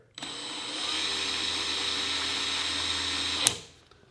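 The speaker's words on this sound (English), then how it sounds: "to close the chuck, I'll put the drill in forward, hold the chuck with my hand, and lightly pull the trigger" A cordless drill runs forward at light trigger to tighten its keyless chuck, a steady close whirring motor hum for about three seconds that ends with a brief click and winds down.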